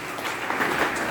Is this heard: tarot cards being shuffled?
no